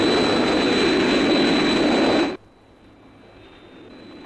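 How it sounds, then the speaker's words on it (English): Thunderbird 1 aircraft flying, a loud, steady jet-engine roar that cuts off abruptly, leaving a low background hum. "I hear an aircraft."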